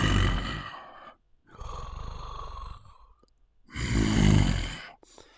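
A voice imitates slow, heavy breathing, with three long, loud, rasping breaths at close range and short pauses between them.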